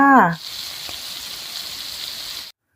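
Shrimp frying in a pan of hot oil, a steady bright sizzle running for about two seconds after a brief voice at the start, then cutting off abruptly.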